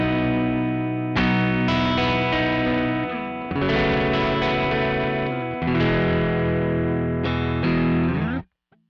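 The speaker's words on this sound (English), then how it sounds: "very cool plugin called Sans Amp. And one of my favorite presets is the JMP1. Dial down the drive a little bit." Electric guitar played through a Sans Amp plugin on the JMP1 preset with the drive dialed down, giving crunchy distorted chords in several sustained strums with chorus-like shimmer, loud and alone before cutting off abruptly near the end.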